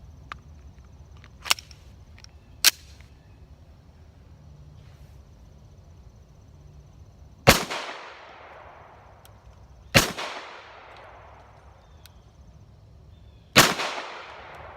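A Ruger American Pistol in .45 ACP fires five sharp, loud shots outdoors at irregular intervals, each crack trailing a brief decaying echo, with a couple of smaller clicks and knocks between them.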